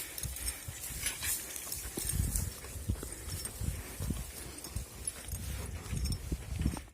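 A horse walks on farm soil while pulling a harrow during winter wheat sowing, its soft irregular hoof thuds mixed with field noise and faint clatter.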